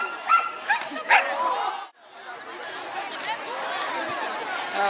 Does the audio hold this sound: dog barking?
yes